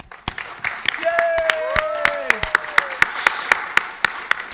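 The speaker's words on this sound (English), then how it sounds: "Let's clap for them." Audience at a potato shed season launch event claps for staff and a trainee, sharp individual claps at first, then a thin murmur of voices under sparse, evenly spaced loud claps trailing off near the end.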